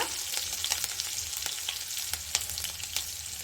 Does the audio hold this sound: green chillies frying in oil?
yes